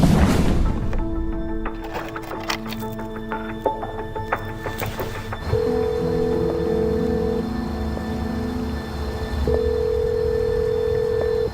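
A telephone dials a number that is out of service: a burst of short dialing tones gives way to steady, sustained line tones, loud and close, with no voices.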